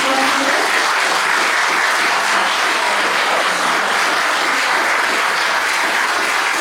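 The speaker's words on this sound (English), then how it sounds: "Let's give a round of applause for our legislators." An audience at a legislative forum in Linn County, Iowa gives a round of applause for state legislators, loud continuous clapping that fills the room evenly from start to finish with no talk over it.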